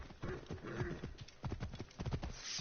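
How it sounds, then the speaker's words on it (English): A horse's hooves clip-clop steadily in Assassin's Creed Origins, a quick, even trotting rhythm heard close and moderately loud, with no talking over it. "Father loves that horse more than all the others we've raised"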